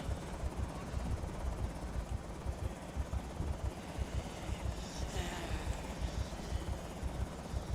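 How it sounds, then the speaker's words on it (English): Helicopter in the video game Project Zomboid, a steady rhythmic rotor thump with engine drone throughout, moderately distant and fairly quiet, no talking. "the chopper's back again"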